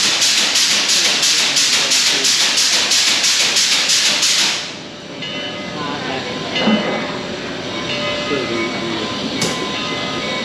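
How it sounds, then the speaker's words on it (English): A diesel locomotive with a caboose rolls through a railfest at Steamtown, giving a loud, rhythmic chugging hiss for several seconds before easing into a lower rumble with scattered clanks and distant voices. "We'll bring the diesel in here"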